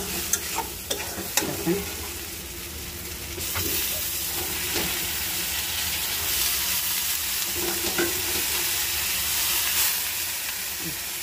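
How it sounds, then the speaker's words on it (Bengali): Radish greens fry and get stirred in a pan over a gas flame, a steady loud sizzle broken by sharp scraping clicks of the spatula early on, with a brief spoken word in passing. "এখন আমি শাকটা দিব"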